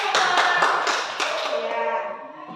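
Children in a classroom clap their hands in a short burst of quick, close claps that fade out within about two seconds.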